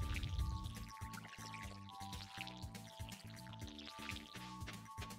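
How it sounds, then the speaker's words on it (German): Watering crops with a watering can in Stardew Valley: a soft, rhythmic series of drippy splash sounds repeating steadily over gentle background music. "Jetzt gieß mal hier noch alles schön fleißig"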